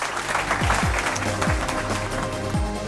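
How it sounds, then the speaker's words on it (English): An audience claps for speaker Maurice at a business event, a broad wash of hands with a few sharper individual claps and a low hum running beneath. "Let's give him a huge round of applause."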